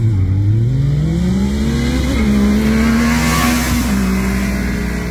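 Yamaha YXZ and non-turbo Can-Am 900 side-by-sides drag racing, the YXZ fitted with a tune and aftermarket exhaust; a loud, steady engine roar climbs in pitch under hard acceleration, with no talking.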